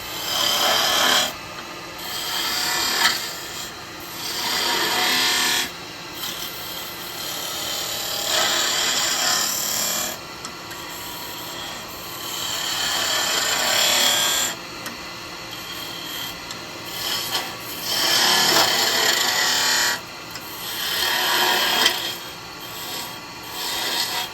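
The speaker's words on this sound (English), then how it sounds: "now I'm going to be using a spindle gouge, and I'm going to start doing my snowman" A spindle gouge cuts wood spinning on a lathe while a snowman-shaped lidded gift box is turned. Loud, close, rasping scrapes come in repeated sweeping bursts with short pauses between them, and no one speaks.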